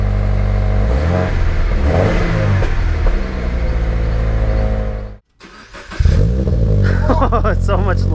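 Subaru BRZ fitted with an Invidia N1 exhaust revs loudly and close up, engine tone holding steady before a brief cut, then sharp rising revs; speech is audible over the engine.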